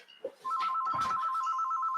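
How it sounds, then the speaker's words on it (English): Telephone bell ringing close and loud, a steady rapid trill that starts abruptly and holds continuously, with a brief thump near the start. "Someone shut that fucking phone off."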